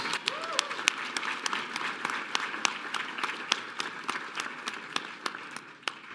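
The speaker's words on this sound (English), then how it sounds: "Please give them a round of applause." Audience applause at the Long Island Imagine Awards ceremony, a steady spread of many hands clapping in a large room, with sharp individual claps standing out throughout and no voices over it.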